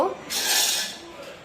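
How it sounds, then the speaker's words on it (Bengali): Chopped potatoes and finely cut egg being mixed in a bowl for crispy pakoras, a short burst of clinking and scraping against the bowl lasting about a second, close and fairly loud. "তো এখন আমি এটাকে মেখে নেব।"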